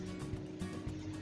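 Outboard motor on a Carolina Skiff boat running under throttle on water, a steady droning hum with low rumble, continuous and fairly close throughout.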